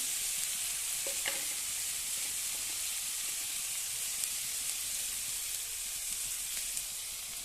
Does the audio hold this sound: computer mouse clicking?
no